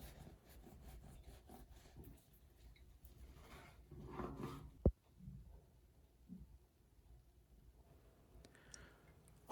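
A knife saws through a cooled loaf of homemade white sandwich bread in a soft, rasping back-and-forth rhythm, with one sharp click partway through and a quiet room behind.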